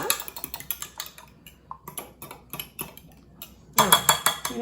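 A fork clinks and scrapes against a bowl while ingredients for a buttery-topped Southern comfort side dish are mixed, giving quick irregular metallic ticks close by, with a denser burst of clatter near the end.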